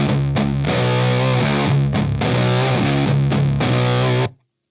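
Electric guitar played through a Drunk Beaver Bat Cold War distortion pedal on its West setting, heavily distorted chords strummed in several sustained phrases, loud and close, then cut off abruptly.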